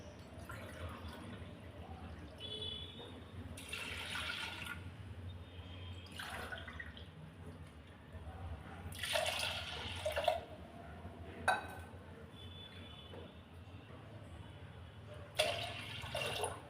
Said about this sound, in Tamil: இதில் ஒரு 3 கிளாஸ் அளவு தண்ணி சேர்த்துக்கலாம்.